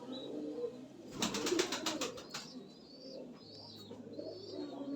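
Giribaz and Madrasi high-flying pigeons coo at a loft, soft repeated low coos continuing through the clip alongside a brief burst of rustling or flapping near the start and faint chirps in the background.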